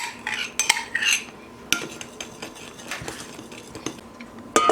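Sugar and margarine-butter are mixed in a bowl for brioche dough, with a spoon tapping and scraping against the bowl in uneven clinks, close and fairly quiet, no voices.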